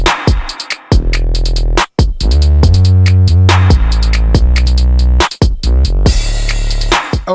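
A mixed bass line from a music production plays loud and steady, with deep sustained notes that change pitch in a rhythmic pattern under sharp percussive hits.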